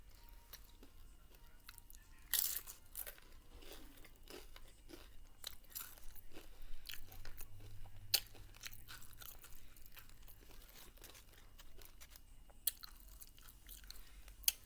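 Close, crunchy chewing of Dorito chips dipped in sour cream, with repeated bites and crunches in an irregular rhythm through a quiet room.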